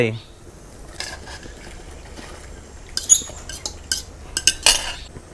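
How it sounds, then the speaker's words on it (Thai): Metal utensil scraping and clinking against a pot of clear Thai soup with pork and egg, sparse at first then quicker stirring strokes, close and fairly quiet over a low simmer. "แล้วคนให้เข้ากัน"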